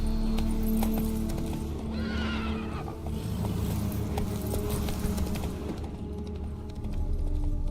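A horse gallops with steady clip-clop hoofbeats and whinnies in The Witcher 3. The loud, continuous hooves carry a neigh partway through, with game ambience layered underneath.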